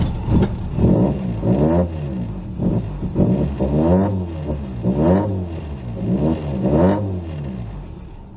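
A Toyota 4AGE engine running rich and struggling to idle, its revs surging and sagging unevenly up close, with no voices over it.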